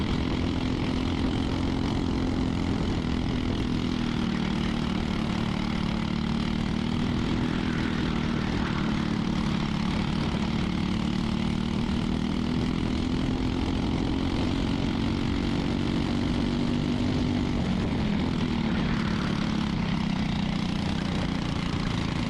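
206-class racing go-karts run on a track with a continuous buzzing engine drone whose pitch rises and dips slightly as they lap, with no voices.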